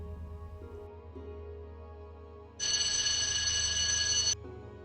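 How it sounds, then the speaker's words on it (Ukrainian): A telephone rings in one loud, sustained burst of about two seconds, rising over a low, quiet background hum and ending abruptly. "Але був один дзвінок, який не на жарт налякав Дороті"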